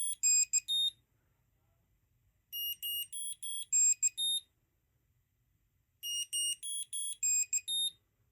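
High-pitched electronic beeps sound in three repeated bursts, each a rapid melodic series of tones, separated by silence.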